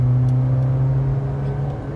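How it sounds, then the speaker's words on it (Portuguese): A VW Polo MSI 1.6 automatic accelerates, its engine giving a steady, even drone heard from inside the car, continuous and fairly prominent with no clear pause. "A aceleração dele é bem legal"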